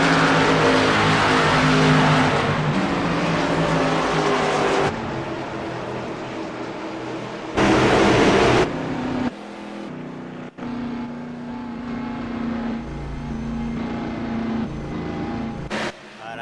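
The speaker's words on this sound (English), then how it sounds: "As you get a look at some of the cars that are still running, as Wall's trying to get by the 10." Race cars scream around the track in the iCAR Busch series racing video game at Phoenix, a loud continuous engine drone that shifts pitch as the cars accelerate and the view cuts between cars, with brief revving bursts.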